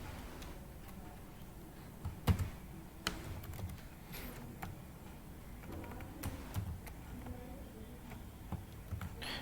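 Computer keyboard typing a title during a CSS coding session, soft scattered key clicks at a moderate pace with a few louder taps, low and close against quiet room noise.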